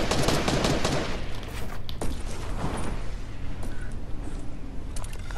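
Rapid bursts of video-game gunfire crackle continuously in a battle-royale firefight, dense and loud throughout with no pause.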